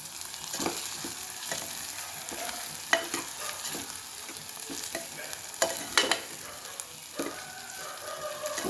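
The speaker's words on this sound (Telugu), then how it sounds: "మసాలా మొత్తం వేగిపోయింది." Masala sizzles and fries in a pan while a spoon stirs it, giving soft scraping strokes and occasional clinks over a steady crackle, close and fairly quiet.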